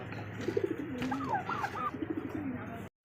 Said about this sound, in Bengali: এখানে আরও একজোড়া রেসার কবুতর